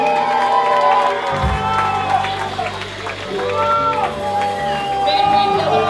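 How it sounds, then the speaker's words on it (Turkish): A theater crowd cheers, claps and whoops loudly for a performer on stage, a dense, lively roar with shouted voices and tonal cries riding on top throughout. "Pınar'cığıma güzel bir alkış rica ediyorum"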